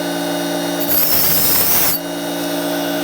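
An oscillating multi-tool blade is sharpened with a Tigers Teeth sharpener: a roughly one-second burst of harsh, gritty rasping rises over a steady tonal whine of the running tool, then drops back to the plain whine.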